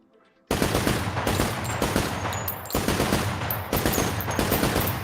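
An AR rifle fires in rapid automatic bursts in a video game, loud and close, with sharp repeated shots broken by brief pauses after a quiet opening moment.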